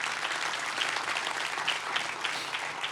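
A church congregation bursts into loud, sustained applause, dense clapping filling the hall evenly throughout with no talk over it.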